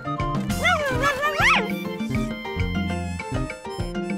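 Cartoon puppies yip, bark and whimper in high, wavering cries over a steady bed of background music.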